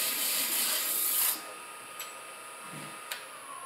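Sanding paddle rubbed against a wooden turned piece on a lathe, a steady close hissing rasp for over a second that then cuts off, leaving a faint hum with a couple of small taps.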